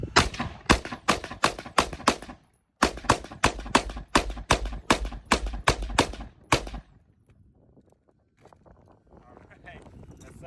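Seventeen rifle rounds of 62-grain green tip are fired at a steel manhole cover outdoors as two quick strings of loud, sharp shots with a short pause between them. Quieter handling noise follows.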